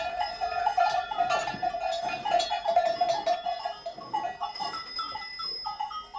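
A herd of about thirty goats on a farm in the northern Alps bleats close by while cowbells clank and jingle steadily underneath.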